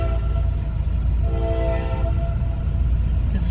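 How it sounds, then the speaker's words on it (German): A train passes near a roadside stop in Qena, Egypt, on a hot day, its loud continuous rumble holding steady while a horn tone sounds midway. "Das ist der Zug."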